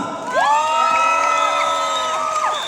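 A concert crowd in Singapore cheers and whoops, dense high shouts and whistles rising over steady applause that continues throughout.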